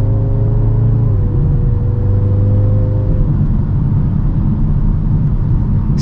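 A Mini Countryman JCW engine hums and drones steadily as it accelerates at full throttle in Green mode, a low exhaust rumble with a rising tone that fades into road noise.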